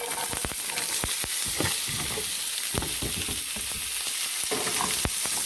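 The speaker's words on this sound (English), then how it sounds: "Added a little bit of oil in there. And I'm going to saute all my vegetables." Vegetables saute in a little oil in a pan for a breakfast quesadilla. The sizzle is steady and close, with scattered crackles and sharp pops throughout and no talking.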